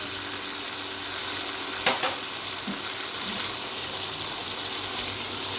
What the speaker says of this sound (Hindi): थोड़ा सा इसको भूनेंगे